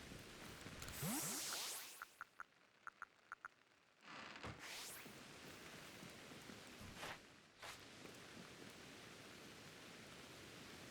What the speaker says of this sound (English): And the rain sounds really nice in the game.